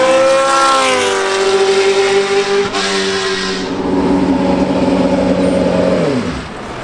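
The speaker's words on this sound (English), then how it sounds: "we're driving a March 811, which is a 1981 Formula One car driven by Derek Daly." A 1981 March 811 Formula One car, once raced by Derek Daly, screams loudly up through the gears as its engine rises in pitch and then drops, with gear changes breaking the howl.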